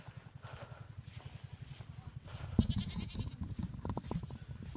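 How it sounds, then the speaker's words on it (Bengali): Goats bleat on a sandy char in the Teesta river, several short cries rising over a steady rhythmic low thumping, with voices and movement joining partway through. "ছাগল গরু সব কিছু নিয়ে আসে।"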